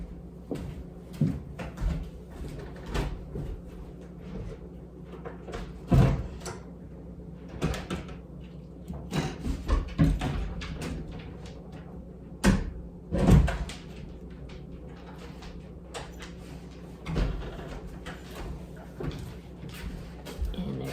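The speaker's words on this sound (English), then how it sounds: "That's my dog scratching at the door because she's a brat." Irregular scraping and bumping against a door, a dog scratching in scattered bursts with quiet pauses between, a few louder knocks.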